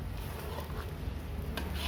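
Grated coconut with coconut milk and oil is stirred in a pan for rendang egg chips, making a soft continuous scraping and rubbing with faint sizzling throughout and no talk.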